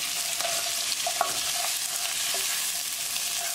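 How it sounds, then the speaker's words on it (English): Onion sizzles in a pan for a potato curry, a soft continuous frying hiss broken by a handful of light scraping stirs, close and fairly quiet. "Cooking onion for 3 minutes"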